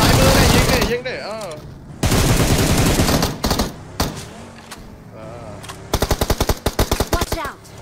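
Bursts of automatic gunfire ring out in a video game shootout, loud rapid volleys in several separate strings with short gaps between them, and a distinct rattling burst near the end, with excited players' voices partly mixed in.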